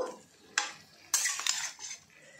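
A utensil stirs and scrapes chopped onion and garlic in a wok for a chicken curry, giving a few distinct metallic clanks and scrapes over a faint background sizzle, with no talking.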